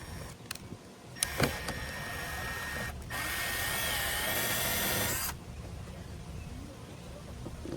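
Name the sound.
power drill drilling a hole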